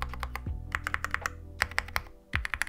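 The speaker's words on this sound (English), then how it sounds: "This is the AL66 from Yunzii, and it's the best sounding keyboard that I've ever typed on." Typing on a Yunzii AL66 mechanical keyboard with milk switches, a close, quick patter of deep thocky keystrokes in bursts with short pauses between them.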